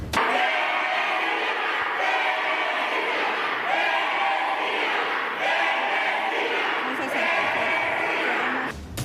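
Opposition members applauding and shouting in a Mexican legislative chamber after a ratification vote, a dense, loud roar of clapping and cheering voices that surges in repeated waves.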